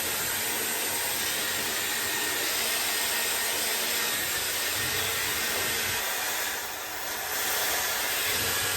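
A Dyson Airwrap hair styler runs at maximum strength, a steady, loud, close airflow roar with a high whine, dipping briefly in the middle before holding strong again.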